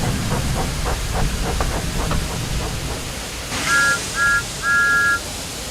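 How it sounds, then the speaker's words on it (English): Thomas the steam engine gives three short, bright whistle toots, the last held a little longer, after a stretch of rhythmic chuffing and steady hiss, loud and close. "Thomas likes whistling cheekily at him"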